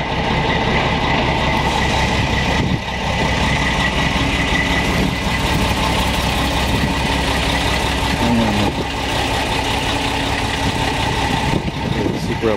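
A loud red truck with chrome wheels idles close by in winter Montreal, its heavy engine rumbling in a steady, unbroken drone.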